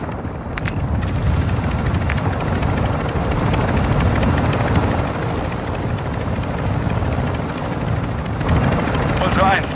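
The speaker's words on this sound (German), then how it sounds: "Exfiltrationsheli gesichtet." Extraction helicopter arriving in the video game DMZ, a loud continuous rotor thump and engine drone holding steady throughout, with radio voices talking over it.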